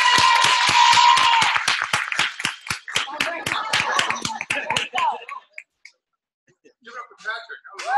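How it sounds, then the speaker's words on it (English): Clapping from a small audience at a team training session, loud, fast and rhythmic at first, then becoming scattered and dying out into near silence before speech resumes. "So let's clap it up for him."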